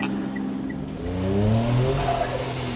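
A turbocharged car engine making boost revs and climbs in pitch as it accelerates hard uphill, loud and close, its rising harmonic whine building over a steady roar.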